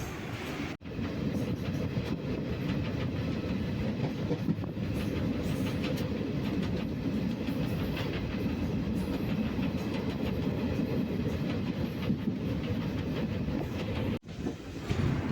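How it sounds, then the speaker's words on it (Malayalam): Kozhikode Jan Shatabdi Express rolling toward Cherthala railway station, heard from on board as a steady, loud rumble of wheels on rails with faint clickety-clack, continuous throughout with a brief dip near the end. "നമ്മുടെ ജനശതാബ്ദി എക്സ്പ്രസ് ചേർത്തല റെയിൽവേ സ്റ്റേഷനിലോട്ട് എത്തിക്കൊണ്ടിരിക്കുകയാണ്"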